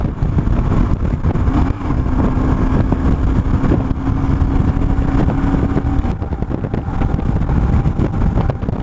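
A BMW R1150GS motorcycle cruises on Highway 101 at about 70 mph: a steady engine drone with a held tone under heavy wind buffeting that roars across the microphone, loud and continuous.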